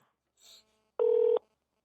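A telephone is dialed to call someone back: a faint brief tone, then a single loud, clean DTMF keypad beep lasting under half a second, close and isolated.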